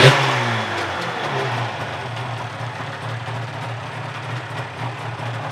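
Yamaha RD500 motorcycle engine running close by after a cold start, a sharp burst at first then a steady, fairly quiet two-stroke idle hum holding low revs, with no voices.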